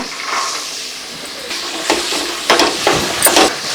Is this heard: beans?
yes